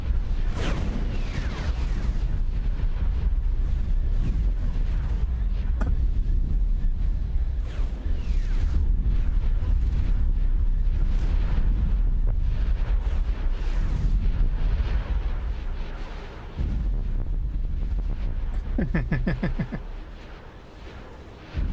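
Torpedoes launch and explode in the Star Wars Interworlds game, a dense, loud wash of booming blasts and rumbling explosions running continuously, with sharp bursts scattered throughout and a brief dip near the end.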